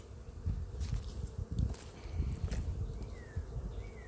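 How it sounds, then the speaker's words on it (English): Bees swarming around a backyard beehive: a continuous buzzing drone of many insects close by, steady and moderately faint, with occasional rustling and no voices. "I don't know if you can see the bees, but they're all flying around"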